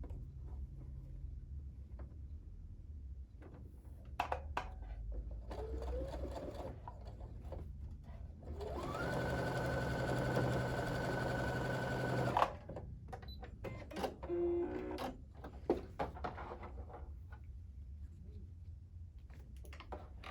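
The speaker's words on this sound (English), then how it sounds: "almost done sewing the rows." A sewing machine stitches quilt rows in bursts, with a long continuous whirring run in the middle, framed by intermittent mechanical clicks and short stitching spurts, close and fairly quiet.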